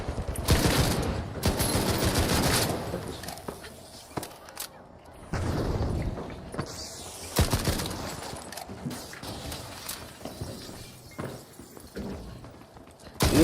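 Video game gunfire, loud, close bursts of rapid automatic shots and single cracks in repeated volleys with short pauses between them, and a voice talking over parts of it.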